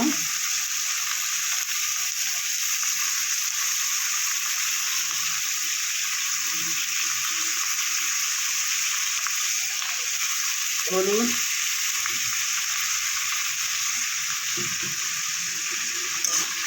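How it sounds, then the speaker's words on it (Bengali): Diced potatoes fry in a pan of oil with turmeric and salt, giving a steady close sizzle throughout, broken by a few short stirring scrapes near the middle and end. "দিয়ে ভালো করে একটু ভাজা ভাজা করে নেব"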